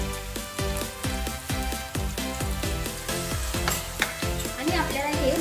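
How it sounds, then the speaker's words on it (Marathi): Spices mixed into yogurt sizzle as they hit sautéed tomato in a pan, a steady close frying crackle with rhythmic stirring scrapes throughout. "आता त्यामध्ये आपण दह्यात मिक्स केलेले मसाले टाकून घेऊ"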